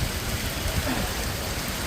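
Heavy rain pours down during a motorcycle trip, a constant, dense hiss filling the background without a break.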